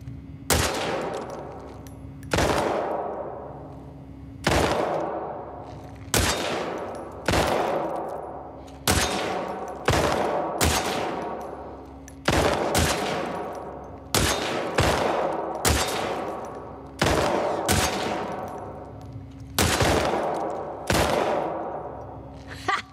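Repeated gunshots in The Last of Us Part II, about a dozen sharp loud reports spaced roughly every one to two seconds, each with a ringing decay, over a low steady hum.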